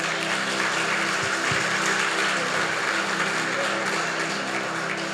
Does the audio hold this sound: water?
no